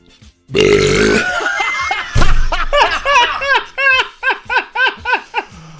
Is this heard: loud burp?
yes